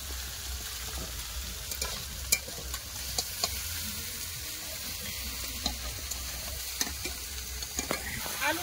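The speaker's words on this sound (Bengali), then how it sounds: "সব একসাথে খুব ভালো করে কষে নেবেন।" Potatoes with Malabar spinach stems and spices fry together in a pan, a constant soft sizzle broken by repeated sharp scrapes and knocks of a spatula as they are stirred, with no talking.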